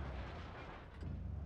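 Tank cannon fire and battle rumble in a tank video game featuring a U-Panzer, a dense, loud, continuous low boom and roar with a sharper crack near the end.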